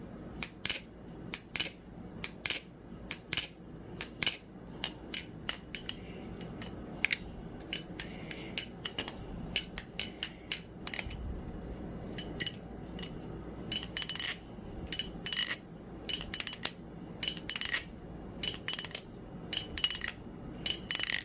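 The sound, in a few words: Black Balisongs Reaper balisong butterfly knife flipping sound test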